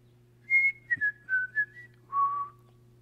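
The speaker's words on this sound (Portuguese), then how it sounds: "Quando um da família fica perdido numa loja, num evento com muita gente, assobiamos o assobio campineiro." A Campinas-style family signal whistle, several clear human whistled notes in a short descending phrase ending on one longer low note, close and alone against a faint steady hum.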